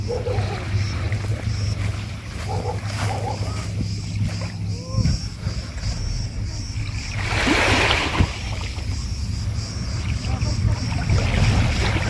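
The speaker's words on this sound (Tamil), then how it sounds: "இந்த அலை சத்தத்தை கேளுங்க" Gentle sea waves lap the shore of Aegina island, Greece, in a steady wash with a louder swell near the middle, heard close with wind buffeting the microphone.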